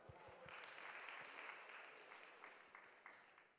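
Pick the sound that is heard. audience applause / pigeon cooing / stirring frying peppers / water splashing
audience applause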